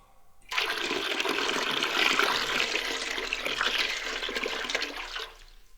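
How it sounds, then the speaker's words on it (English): Water squeezed out of a stone by a giant's grip, a loud, steady rush of splashing liquid that starts abruptly, holds for about five seconds, then stops, with no voices. "The giant picked up a stone and squeezed it so hard that water came out."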